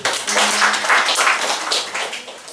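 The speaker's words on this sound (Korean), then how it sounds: "박수 한번 보내주세요" Audience clapping at an HRD forum lecture on action learning: a dense, steady patter of many hands lasting a couple of seconds, moderately loud and fairly close.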